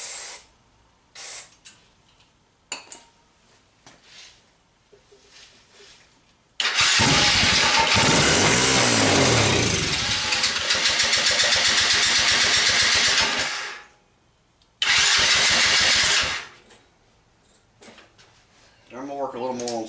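Chinese four-wheeler ATV engine cranking loudly in long sustained bursts, a roughly seven-second run then a shorter two-second attempt, with quieter handling noises and faint clatter between tries.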